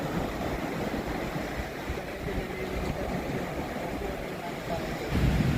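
Ocean surf rolls steadily along a shore, a continuous low wash of breaking waves with wind buffeting the microphone, rising slightly near the end.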